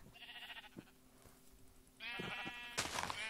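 Minecraft sheep bleat several times, a shorter call first and then louder, longer ones, with faint tapping and background tones between.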